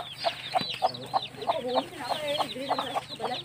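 Repeated short clucks from a nearby chicken, a steady series of sharp calls over a low background hum.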